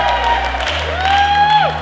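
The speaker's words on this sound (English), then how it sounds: "keep the round of applause going" Wedding guests applaud and cheer at an evening reception, a steady wash of clapping and crowd noise with a voice and a rising musical tone carrying over it.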